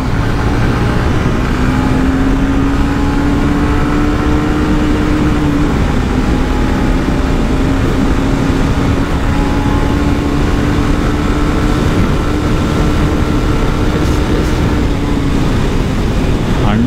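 Honda Shine SP125 motorcycle ridden at speed in fourth gear, a loud steady engine drone with a gently wavering pitch and strong wind and road rush, continuous throughout with no breaks.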